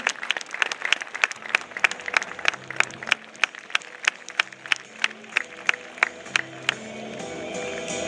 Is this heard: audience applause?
yes